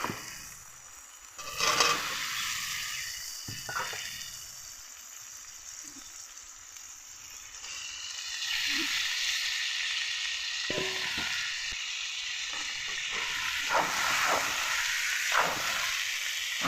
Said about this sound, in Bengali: এখন ভেজে রাখা আলু আর কপিগুলোকে একসঙ্গে দিয়ে দেব।